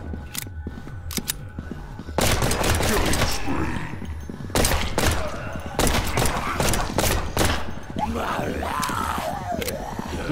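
Loud, sharp gunshots in the Dead Purge Outbreak zombie video game crack in repeated bursts and volleys, starting with a few isolated shots and then firing steadily through the rest of the clip.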